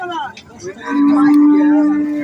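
A heifer of local breed moos loudly at a busy cattle market, one long sustained low call rising out of background crowd murmur, close to the microphone.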